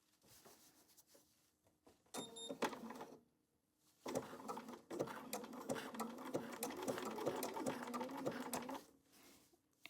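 Domestic sewing machine stitching to tack down truck appliqué on a quilt piece, running in close, loud bursts: a short run, a pause, then a long steady stretch of rapid needle chatter.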